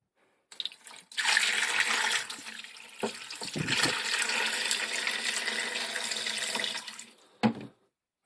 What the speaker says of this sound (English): So I'm going to put some in now, just simply pour it in the bottom.